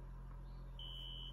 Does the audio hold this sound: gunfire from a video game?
no